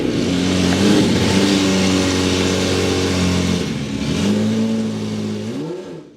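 A heavily modified Lamborghini Murcielago revs loudly and close by, a deep, rough roar held steady for several seconds, then dipping and rising again before cutting off abruptly.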